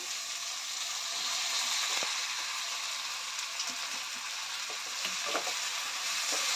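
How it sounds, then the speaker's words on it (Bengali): Soaked, drained basmati rice frying in a pan with spices, a steady hiss and sizzle with occasional stirring scrapes and clinks, close and continuous. "এটাকে একটু ভালো করে ভেজে নেব"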